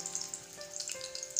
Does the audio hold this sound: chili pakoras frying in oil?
yes